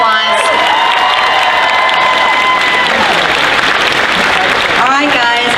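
A loud crowd at a convention costume contest claps, cheers and whoops for a contestant, a dense roar of applause with shouting voices on top throughout.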